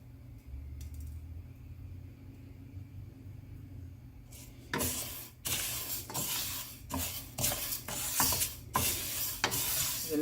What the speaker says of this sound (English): Still roasting it. And roasting it on a low flame.